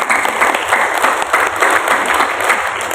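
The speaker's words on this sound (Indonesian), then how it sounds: "Tepuk tangan bagi Tuhan." A church congregation at a PDKK Gabriel Semarang gathering claps loudly and steadily, a dense continuous wash of hand claps filling the room without pause.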